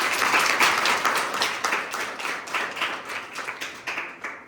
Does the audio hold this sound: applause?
yes